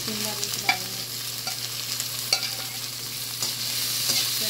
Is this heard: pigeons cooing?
no